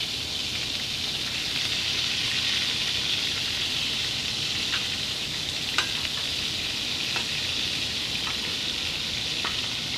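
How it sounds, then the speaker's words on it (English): Meat searing on a FIREDISC cooker gives a steady, dense sizzle that holds throughout, with a few faint scrapes and pops as pieces are moved around the hot disc. "We're going to get a nice sear on them."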